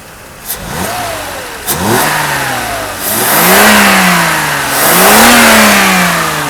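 A Mercedes-Benz W126 300SEL engine, tested after an oil pan repair, revs up repeatedly, rising and falling in pitch over several loud bursts, with a brief sharp knock before the first two revs.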